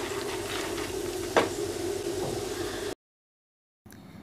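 Peanuts frying in hot oil for roasted poha chivda give a steady sizzle with a single sharper pop standing out. The sound then cuts to silence and returns faintly.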